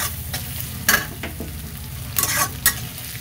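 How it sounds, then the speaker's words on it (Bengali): Ginger garlic paste sizzles loudly in a pan while being stirred, a steady fry hiss punctuated by several bursts of scraping and spattering. "এখানে আদা রসুন পেস্টটা দিয়ে দিচ্ছি।"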